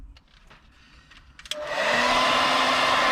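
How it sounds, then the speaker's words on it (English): A few faint clicks and handling taps give way to a heat gun switching on over a carbon fiber wrapped Tesla Model 3 cupholder, then a loud, steady blowing whir with a tonal whine close by. "now we're going to take a heat gun to make sure everything is"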